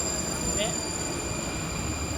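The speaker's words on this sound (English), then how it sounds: "Train is already here. It's a fucking tram." A tram pulls into a stop in Prague, with a continuous close rumble of rails and wheels, a faint brief squeal and a high electrical hum throughout.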